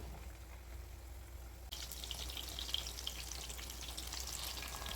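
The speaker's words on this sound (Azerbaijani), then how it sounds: "Badımcanın bir ucu kızarıb, o birisi üzünü çevirirəm ki kızarsın." Eggplant pieces fry in oil in a pan, a low sizzle that turns into a louder, busier crackling after the first couple of seconds and holds steady to the end, close and with no talk.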